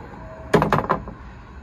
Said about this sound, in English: The door will open, the ramp will start coming out, and the vehicle is actually kneeling down as well.